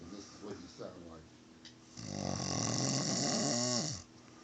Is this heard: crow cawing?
no